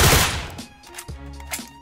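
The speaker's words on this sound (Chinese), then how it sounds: "对面有枪声" Gunfire in an escape shooter video game: a rapid burst of several shots opens, then a few sharper single reports follow, loud and with no talk.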